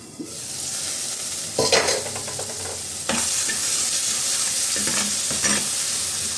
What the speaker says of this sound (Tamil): இப்போ தக்காளி போட்டுக்கலாம். ஒரு மூடி போட்டு விட்டுடலாம்.